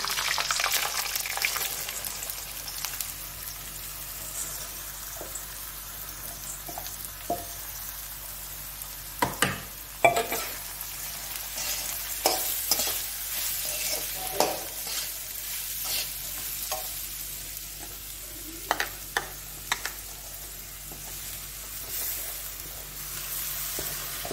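Cashews and split dal sizzle steadily in a pan while a spatula scrapes and stirs through them, with sharp clicks and knocks scattered over the continuous frying hiss.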